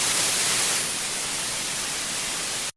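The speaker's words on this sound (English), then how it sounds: "here's some white noise" A steady hiss of white noise, even and unbroken like radio static, fills the whole stretch at constant level before cutting off abruptly at the end.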